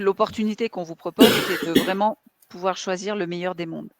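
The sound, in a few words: someone coughing in the background over a microphone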